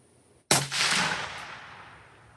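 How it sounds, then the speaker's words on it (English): A single sharp rifle shot cracks loud and close during scope sighting-in, followed by a long decaying outdoor echo. "see if you're flinching or not when you're shooting your round"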